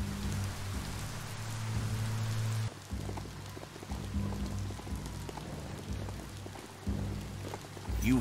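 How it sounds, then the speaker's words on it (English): Steady video game rainfall in Biomutant patters on surfaces as a soft, continuous hiss, with a low droning hum beneath it and no talking. "Don't get swept away in the rain."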